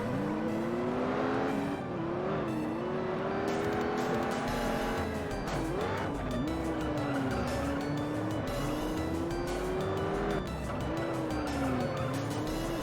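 A Mitsubishi 3000 GT races in a video game, its engine revving and shifting through gears in repeated rising sweeps, with tire squeal and skidding over a steady loud roar.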